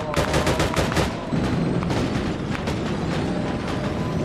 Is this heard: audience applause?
no